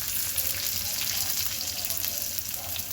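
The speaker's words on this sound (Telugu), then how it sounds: "కొంచెం ఆయిల్ తీసుకొని తాలింపు వేసేసుకొని" Tempering spices sizzling in hot oil for tomato rasam, a continuous bright crackling hiss, close and fairly even throughout.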